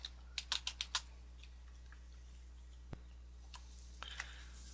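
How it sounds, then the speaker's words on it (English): Brief bursts of computer keyboard typing, a quick run of key clicks at the start and a few scattered taps later, faint over a steady low hum. "So we type this in."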